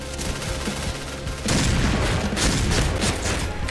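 Rapid automatic gunfire in the Point Blank shooter game, a dense stream of close, loud shots that grows heavier and more continuous halfway through with no pauses.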